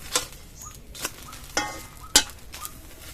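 A paneer besan paratha being flipped and pressed in an aluminium pan with a little oil, giving a few soft, sharp scraping and tapping hits spaced about half a second apart over a faint sizzle.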